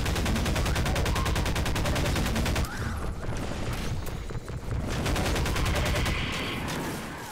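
Rapid alt-fire gunfire from a weapon in Half-Life 2: Episode 2, loud dense bursts of repeated shots that pause briefly mid-clip and resume, with echoing booms and no talking.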